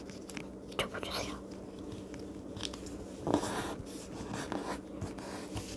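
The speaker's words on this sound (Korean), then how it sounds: "한 번 더 이 선이 이 선에 모이도록 접어줍니다." Sheets of colored paper are folded and creased to make an origami ttakji, producing close, soft crinkles and rustles with a few sharper crunches of the paper.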